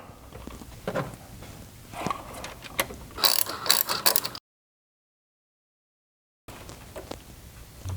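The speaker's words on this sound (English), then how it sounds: "Now we can tighten up the other post clamp bolts with a 1/2 inch socket." A 1/2 inch ratchet socket tightens battery post clamp bolts on a Toyota Tacoma dual battery kit, giving quiet, close clicking bursts with a silent gap midway.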